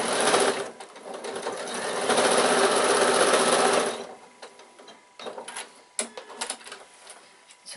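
A sewing machine stitches bag straps with a fast, steady mechanical whir for about four seconds, then stops and gives way to short bursts of clicks and handling sounds, close up with no voices.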